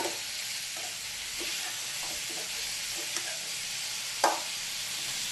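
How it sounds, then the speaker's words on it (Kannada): Potato and ash gourd curry with coriander leaves frying in a pan: a constant close sizzle with occasional soft stirring knocks and one sharper clack near the end. "ಸ್ವಲ್ಪ ಫ್ರೈ ಆಗಬೇಕಿದು"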